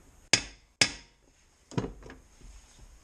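Two sharp metallic hammer taps close together seating a Briggs engine valve during a valve job, followed by a softer knock and faint clatter, close and fairly quiet.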